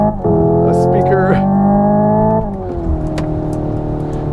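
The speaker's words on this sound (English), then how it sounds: "There you go, there's that exhaust crackle." Hyundai electric car playing simulated exhaust crackle through front and rear speakers, a loud synthetic engine drone that shifts pitch with brief crackling pops as it changes gear, with someone talking over it.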